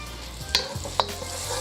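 Oil heating in a pan before an egg is fried for restaurant-style chicken fried rice, giving a low steady sizzle with a few sharp clicks and scrapes, no talking.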